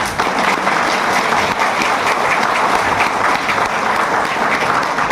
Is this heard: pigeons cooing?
no